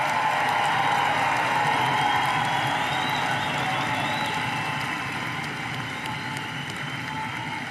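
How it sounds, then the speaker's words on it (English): A commencement crowd applauds the graduates with sustained, dense clapping that fills the hall and then gradually softens, with no distinct voices. "how about a round of applause again for all of these wonderful graduates?"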